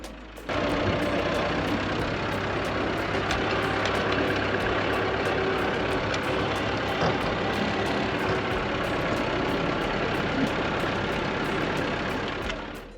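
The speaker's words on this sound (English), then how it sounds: "A giant tractor ride with Miss Purity, the farm's machinery expert, was something to behold." Giant farm tractor engine running during a ride on a Ugandan goat farm, a loud, steady low diesel drone and rattle that holds evenly from start to finish with no talk.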